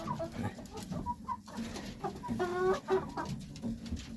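Chickens clucking and calling inside a roomy backyard chicken coop on a small homestead farm, with several birds vocalizing in short, overlapping bursts against a steady low background hum.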